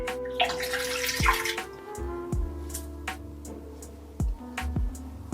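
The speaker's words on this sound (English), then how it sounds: "I'm gonna rinse this." Running water from a tap rinses a shaving razor, a steady splash with a brief louder gush early on, followed by several distinct drips and knocks against the sink.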